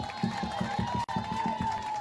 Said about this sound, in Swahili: Wapi makofi ya Susan?